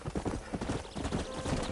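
Horse hooves clip-clopping in a steady galloping rhythm while riding in the Red Dead Redemption video game, loud and close throughout, with faint snorts from the horse.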